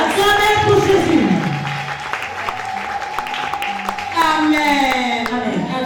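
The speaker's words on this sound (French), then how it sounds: "Put your hands together for Jesus" A church congregation applauds for Jesus, steady clapping sustained under a speaker's voice and music for several seconds.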